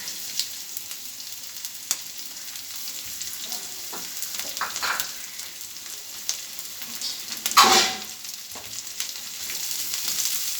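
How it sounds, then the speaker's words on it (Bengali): Onion and green chilli fry together in a pan for a homemade egg chop, a steady close sizzle with occasional stirring scrapes and a brief louder crackle partway through. "পেঁয়াজটা লাল লাল করে ভেজে নেবো।"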